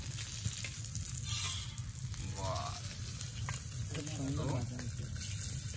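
Koi and jeol fish frying in a pan, a continuous bright sizzle of oil with low rumbling underneath, and a voice talking intermittently over it.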